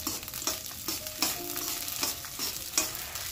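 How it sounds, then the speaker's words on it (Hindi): Black soybeans roast dry in a pan over a low flame while being stirred, a continuous close, gritty scraping and rattling with a soft sizzle and regular stirring strokes. "अब ये भट्टी हम भुनाई कर रहे हैं, मंदी आंच में भूनना है इसको।"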